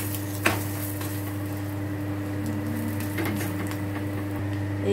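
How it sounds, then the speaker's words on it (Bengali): A paratha sizzles in refined oil on a pan, a steady soft frying hiss with a low hum and a couple of brief knocks from the pan. "এই যে এবার রিফাইন দিয়ে পরোটাটা সেঁকে নেব।"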